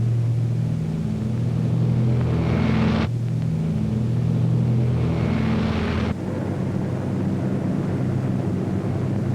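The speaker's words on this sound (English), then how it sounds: "Hitler's fortress Europe rocked under the terrific pounding of RAF bombers." RAF bombers in flight in a wartime newsreel, a dense continuous drone of heavy piston engines with a steady low rumble and wind noise, sustained and loud, with no voice over it.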